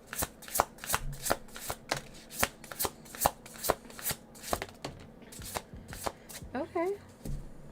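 An oracle card deck is shuffled by hand in quick repeated riffles and sharp snaps, close and crisp, with a voice talking faintly underneath near the end.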